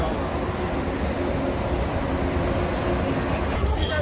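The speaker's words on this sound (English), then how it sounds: "You see the monorail, you pay your respect." The Disneyland monorail passes close by with a continuous low rumble and rolling drone that hold steady throughout, and a brief higher rattle comes near the end.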